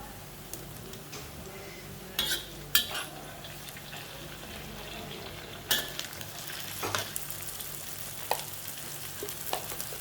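Onions frying in a pan as tomatoes go in, a steady moderate sizzle broken by sharp clicks and clatters of a spoon against the pan.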